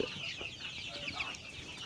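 Hybrid laying hens cluck in short, repeated bursts close by, a busy, continuous chatter of farmyard fowl with no voices.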